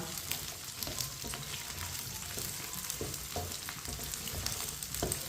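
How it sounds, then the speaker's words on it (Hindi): Okra and potato for aloo bhindi fry on a high flame while a spoon stirs them, giving a constant close sizzle with scraping and clinking from the spoon throughout. "भिंडी को इसी तरह चम्मच लाते हुए फ्राई करना है।"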